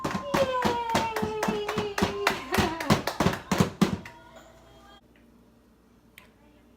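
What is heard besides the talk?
baby clapping hands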